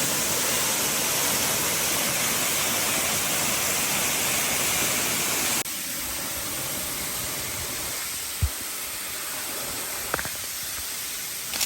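Waterfall on a Blue Ridge mountain salamander-hunting trip: a steady, loud broadband roar of falling water that drops to a softer, more distant rush partway through, with a couple of brief knocks near the end.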